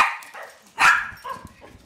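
Dogs bark loudly nearby, with a softer yip at the start, one strong bark in the middle and a fainter bark after it, all close and without talk.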